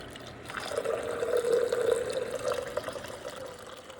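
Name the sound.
water poured into a French press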